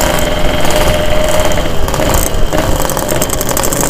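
A motorcycle engine runs loud and close with a steady, rough drone and slight swells in pitch, heard alone without voices.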